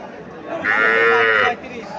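A Sahiwal bull calf gives a single drawn-out moo, close and clear, amid the low murmur of a cattle market in Comilla.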